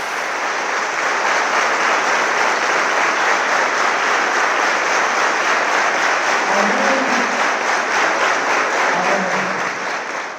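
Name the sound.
applause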